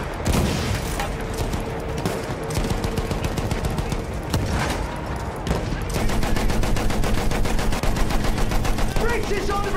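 Rapid suppressing gunfire in the Battlefield 1 campaign, a World War I shooter, rattles as steady machine-gun bursts with scattered heavier booms, loud and near throughout, with game voices calling out between the shots.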